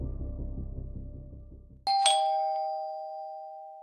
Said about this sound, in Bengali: এই অসময়ে আবার কেটে কলিং বেল বাজায় রে।